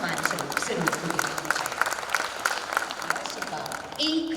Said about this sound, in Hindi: सर तालियों की गड़गड़ाहट सम्मान स्वरूप जरूर होती